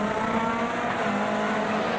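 Race car in a 2007 Dunlop Supercar Championship round braking late into a corner, a steady loud engine roar with a sustained high tyre squeal across the whole stretch, no voices.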